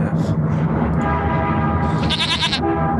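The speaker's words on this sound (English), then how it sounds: "What's a sheep doing downtown?" A sheep in a multiplayer video game bleats in a short, loud burst of cries near the end, over a steady bed of game ambience.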